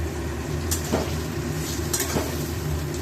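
Yogurt chicken with tomatoes frying in a pan makes a dense, continuous sizzle close by, broken twice by brief scraping stirs of a utensil, with no voices.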